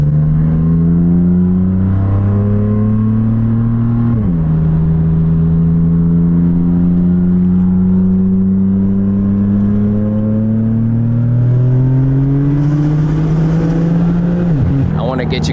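A BMW M3/M4 fitted with an Active Autowerke exhaust, catless downpipes and a single mid-pipe, downshifts with loud, steady engine drone whose pitch drops sharply, then climbs and drops again near the end.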